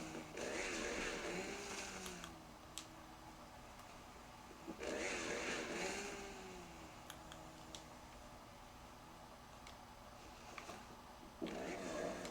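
A Minecraft chainsaw buzzes in repeated bursts of a couple of seconds each while cutting trees, its motor rising and falling between cuts, fairly close.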